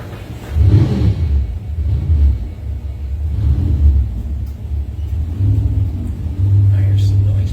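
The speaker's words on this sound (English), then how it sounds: "I hear some noise, but I can't see what car it is anymore." A car engine at a Bowties car show rumbling low and deep, with swells of revving rising and falling at moderate distance amid outdoor crowd noise.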